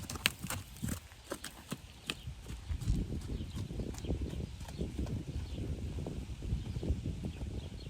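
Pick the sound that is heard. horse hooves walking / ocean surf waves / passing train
horse hooves walking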